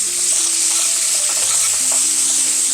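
Banana peppers spread evenly in a hot pan, sizzling loudly and continuously close up with faint stirring scrapes, no voices.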